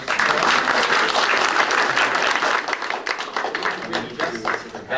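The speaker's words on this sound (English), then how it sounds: "Can we have a round of applause for" Audience applause fills a human rights campaign gathering, a dense, steady wash of clapping from a crowd that tapers slightly toward the end, with some voices mixed in.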